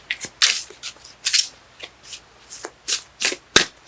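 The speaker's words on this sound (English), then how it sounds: "Cards let me know when they're done shuffling." Tarot cards are shuffled by hand in a steady series of short riffling bursts, close and fairly quiet, with no talking.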